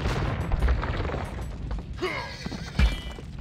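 Bombard cannons fire in an Age of Empires II Arena match between Turk armies, a sharp boom cutting through dense battle clatter and horse noise, with one loud blast standing out late in the clip.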